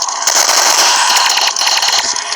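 Rapid bursts of video game gunfire crackle continuously with dense, sharp reports, loud and close, without pause across the whole stretch.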